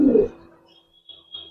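A single low coo from a Giribaz pigeon comes up close at the start, then fades, leaving faint chirps and soft rustling in the quiet that follows.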